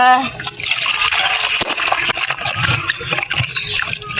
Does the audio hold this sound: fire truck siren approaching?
no